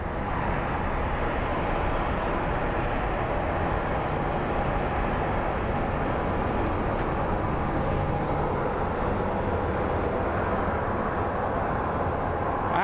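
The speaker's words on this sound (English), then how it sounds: "So we have our KC-46 Pegasus coming in," A KC-46 Pegasus military tanker aircraft coming in at an airport, heard as a steady, broad, continuous roar that holds at an even level throughout without speech.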